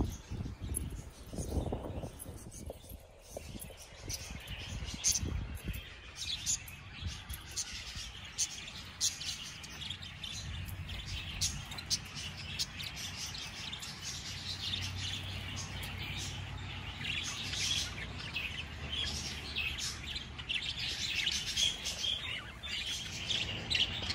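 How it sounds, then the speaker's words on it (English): Parakeets chirp and call continuously from a park in Stratford, Connecticut, their bright tweets rising over a steady outdoor background with no talking. "I hear parakeets."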